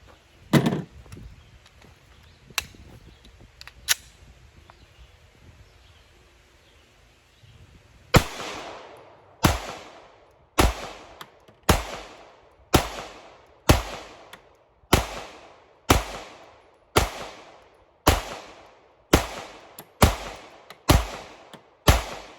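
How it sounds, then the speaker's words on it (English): Walther PPQ pistol firing a full magazine, about a dozen sharp, loud reports in a steady rhythm roughly one per second, preceded by a few scattered clacks and handling noises, with no voices. "let's put another magazine through it, because I enjoy shooting"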